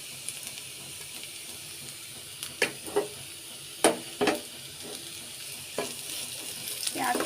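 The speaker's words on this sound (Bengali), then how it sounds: "আমি এর মধ্যে এখন কেটে রাখা কাঁচা পেঁয়াজগুলো দিয়ে দেবো।" Chopped raw onions tossed into a pan of frying potato and bean bhaji: a low continuous sizzle broken by several sharp scraping stirs and clatters, close up, with no talking.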